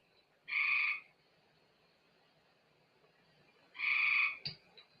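A frog croaks twice outdoors at night, two short buzzy calls a few seconds apart against a quiet background hiss.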